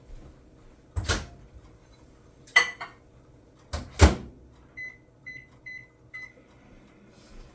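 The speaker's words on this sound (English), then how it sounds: "So I'm going to go pop mine in the microwave real quick." A microwave oven melting butter: a couple of loud door clunks and button beeps, then a low steady hum, followed by a run of four short, evenly spaced electronic beeps.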